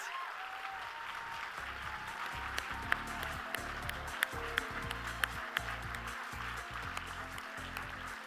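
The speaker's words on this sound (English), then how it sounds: "let's give another big round of applause to Josiah, Isis." An audience at a children's aid benefit gives sustained applause for young honorees, a steady wash of many hands clapping with occasional sharper claps standing out, with no talking over it.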